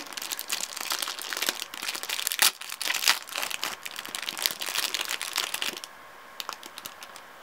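Dense, crackly crinkling of a small plastic packet of nail glitter being handled and opened up close, continuous rustling with sharper crunches, tapering to a few scattered crinkles near the end.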